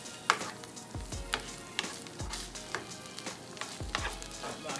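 Vegan meat sizzles in a frying pan, a soft steady crackle broken by repeated scraping knocks as it is stirred, fairly quiet and with no talking.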